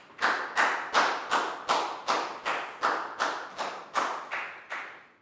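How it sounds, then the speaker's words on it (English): A round of applause for a student in a Year 4 maths class: about a dozen crisp, evenly spaced claps in a steady beat, close and moderately loud, with no talking. "a big round of applause for Pak Bung"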